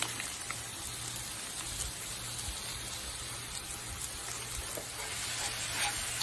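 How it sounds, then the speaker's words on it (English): Sausage browns in a pan with a steady, dense crackling sizzle like light rain, occasional sharper pops, and a low hum beneath, heard up close and continuous. "cook down your sausage. Cook this down. Brown it up"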